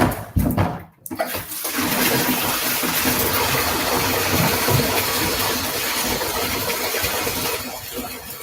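Water is poured over hair during a wash, starting with a short clatter and then becoming a steady, close rushing splash that continues for several seconds.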